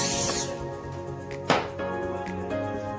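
Cooking spray hisses briefly onto flat parchment paper, a short burst of spray standing out over faint kitchen background noise.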